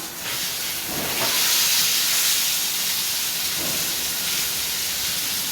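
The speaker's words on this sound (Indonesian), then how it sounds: "harus panas minyaknya, baru dimasukin ini tauhunya ya" Tofu dropped into hot oil in a home kitchen, a steady close hiss of sizzling with brief louder bursts as pieces go in, no talking.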